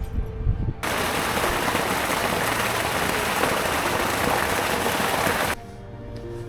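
Raindrops falling in the historic town of Siena, Italy, a dense, loud patter that starts abruptly, keeps up steadily for about five seconds, then cuts off to quieter background.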